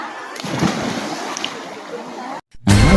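Water splashing and sloshing during an outdoor bath or shower, a steady wet wash running under faint talk, a brief drop to near silence, then a louder close burst of splashing and voices.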